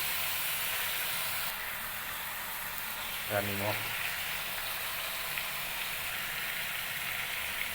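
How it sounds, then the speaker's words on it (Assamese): Broiler chicken frying in oil with onion and spices gives a soft, steady sizzle throughout, while a person speaks briefly over it midway. "এয়া ব্ৰইলাৰ মাংস, তেল পিঁয়াজ অকণমান ফোৰণ দি ভাজি লৈছোঁ।"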